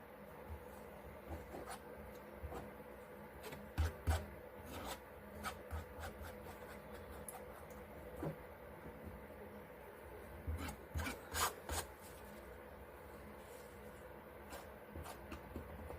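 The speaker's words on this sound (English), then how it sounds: "I'm just going to cover the canvas with paint while I've got the palette knife in my hand." A palette knife spreads acrylic paint across a long canvas, giving soft scraping and rubbing strokes in irregular bursts, quiet and close, with no talking.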